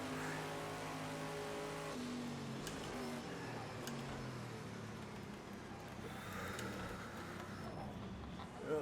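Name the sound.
Porsche 962C race car engine in Project CARS 2 video game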